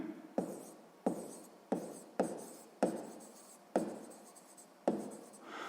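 A pen scratches across paper in a series of about eight separate strokes at an even rhythm, each a short rasping burst that fades, close up and quiet without speech.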